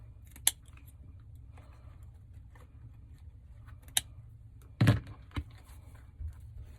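Scissors snipping ribbon tails on a Dollar Tree Valentine's heart wreath, a few sharp close cuts spaced apart in an otherwise quiet room.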